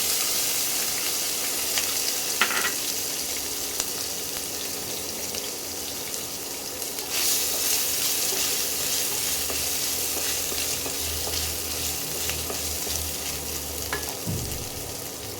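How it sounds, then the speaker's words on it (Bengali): Chopped coconut frying in hot oil gives a steady, moderate sizzle throughout, with occasional light clinks and stirring touches. "এই তেলের মধ্যে যে নারকেল যে কুচিয়ে রেখেছিলাম, এই কুচনো নারকেলগুলো দিয়ে দেবো।"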